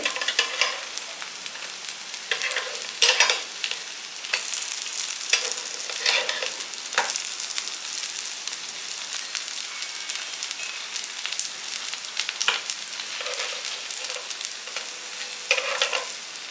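Food roasting in a pan after being flipped, a bright steady sizzle like light rain, with occasional stirring scrapes, close and without talk.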